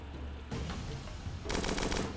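Rapid gunfire from a gun in the video game Starbound: a dense burst of shots in the second half, sharp and loud, following a quieter stretch of game sounds.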